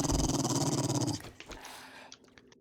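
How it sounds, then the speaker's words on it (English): A dog growling in the 7 Days To Die video game, a loud close rumbling snarl that pulses for about a second and then cuts off, followed by faint thumps and scuffles. "That dog."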